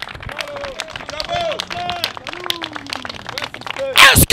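A church congregation applauding and cheering during a sermon, with raised voices calling out among scattered claps, ending in a loud burst of clapping and cheering.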